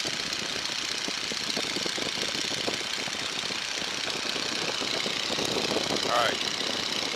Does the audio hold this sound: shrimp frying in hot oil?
no